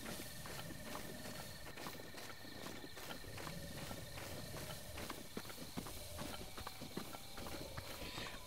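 Horses in the Zelda: Breath of the Wild video game move about with rhythmic hoof clip-clop over a dense, loud in-game ambience of wind and outdoor sound, with no talk.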